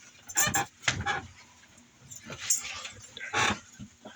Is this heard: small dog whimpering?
yes